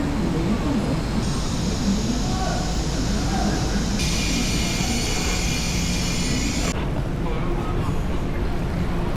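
A high-speed train runs from Shanghai to Changsha with a steady low rumble and rolling rail noise. A hissing whine starts and stops partway through, with faint voices underneath.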